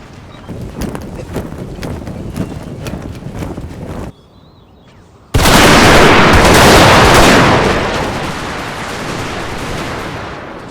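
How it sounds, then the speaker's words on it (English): Musket volleys and cannon fire in a Total War battle of the First Battle of Bull Run, a dense crackling barrage of gunfire that breaks off briefly, then returns as a louder, roaring wall of massed shots. "firing repeated volleys at Sherman's advancing brigade"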